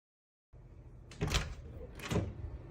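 A car's rear passenger door opens on its own in a spooky story sound effect: after a brief silence, a low rumble builds and two distinct mechanical clunks and rattles follow, ending with a sharp thud.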